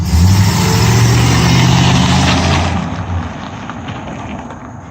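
An Oldsmobile Delta 88 Royale engine rumbles loudly and steadily up close, holding a low drone for about three seconds before easing off and fading.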